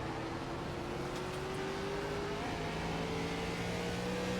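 ARCA stock car engines drone in a racing video game at Lime Rock, a steady moderately loud engine hum with gently rising pitch as the field accelerates.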